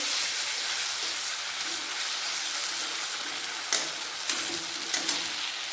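Spices sizzle and crackle steadily in a hot pan, with a few sharp clinks of a spoon near the end.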